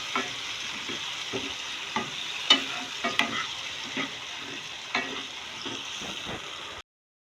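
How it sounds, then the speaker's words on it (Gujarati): Gunda (glue berries) frying in oil with spice masala for a Gujarati sabzi, a steady low sizzle broken by repeated scraping knocks of a spoon stirring in the pan, close by, ending in sudden silence. "તો હવે આપણે એમાં ગુંદા છે એ નાખી દેવાના છે અને એને મસાલા સાથે મિક્સ કરી દઈશું"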